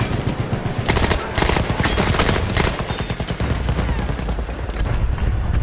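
Battlefield 1 gameplay gunfire: dense bursts of rapid automatic shots and booming reports fire in quick succession, loud and close, with hardly a pause.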